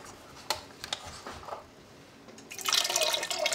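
Beef broth from a carton poured into a pot of taco soup, a few faint drips at first, then a louder splashing gush of liquid toward the end, close and quiet.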